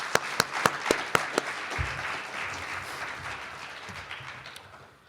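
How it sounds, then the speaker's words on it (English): An audience at an evening honors event breaks into a round of applause, with a few sharp close claps at first, then a dense sustained clapping that fades out. "So let's give each other a round of applause."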